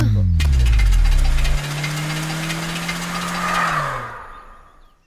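A car engine runs with a heavy, rough rumble, then loses power and its drone sags and winds down before fading out to near silence.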